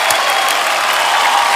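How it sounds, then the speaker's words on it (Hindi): A studio audience at a comedy television show claps steadily and loudly, a dense continuous wash of applause with no break. "एक बार जोरदार तालियां हो जाए हमारे सभी खिलाड़ियों के लिए।"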